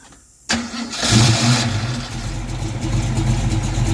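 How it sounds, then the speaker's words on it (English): A car engine on a project car being cranked for a cold start. After a quiet moment comes a short burst of starter cranking, then it catches and settles into a loud, close, steady rumbling idle. "we are going to go ahead and crank up the engine"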